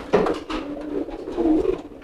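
A pigeon coos softly up close, a few low throaty calls rolling together over about two seconds.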